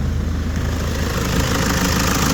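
A Toyota Commuter 2.5 diesel van from 2012 idles with a steady, close, low rumbling drone and a faint regular knock, running unbroken throughout.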